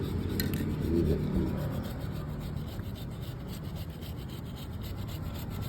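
A motorcycle chain being scrubbed clean with chain cleaner gives a steady, close rasping and rubbing that runs without pause, with no voices.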